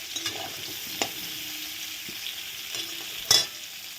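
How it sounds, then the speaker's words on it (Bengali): Cauliflower and potato pieces fry in hot oil in a pan with a soft, steady sizzle, broken by light scrapes and clinks of stirring and a sharper clatter near the end. "ফুলকপি আর আলু দেখো ভালো করে ভাজা হয়ে গেছে"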